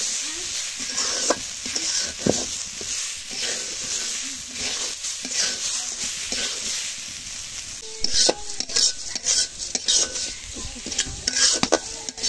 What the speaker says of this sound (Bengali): মুগ ডালগুলো হালকা ভেজে নেব।